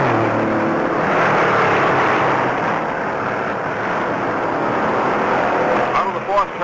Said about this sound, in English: Roaring down the backstretch, 68 cars play follow the leader at 150 miles an hour